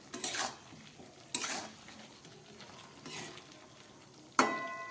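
A pot lid lifted while jackfruit curry cooks on low gas: a few sharp metallic clanks and scrapes, close and fairly quiet, with a soft simmering hiss between them and a final ringing clink.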